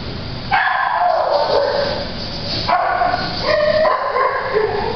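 A dog barks loudly and close by in several bursts of sharp, pitched barks, separated by brief pauses.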